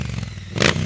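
A motorcycle engine idles with a low, burbling pulse, then the throttle is cracked open for a sharp, loud rev near the end of a very brief moment.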